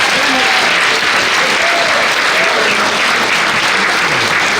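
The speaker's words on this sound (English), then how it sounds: "Give them another round of applause." Sustained applause from an audience for young performers, steady and dense throughout at full loudness with a light crowd murmur underneath.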